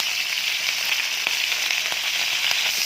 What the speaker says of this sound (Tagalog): Luto na ang ating pritong sapsap po